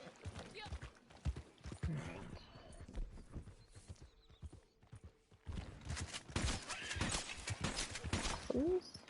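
A horse's hooves clip-clop in an outdoor hunting game while someone talks over them, and a brief neigh rises near the end.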